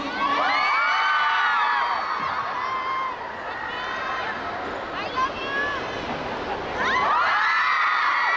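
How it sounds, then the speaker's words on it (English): Fans at a cosplay event screaming and cheering loudly in an indoor crowd, with high shrieks rising and falling in bursts over steady babble, some talk mixed in. "Yeah, I hear more screams."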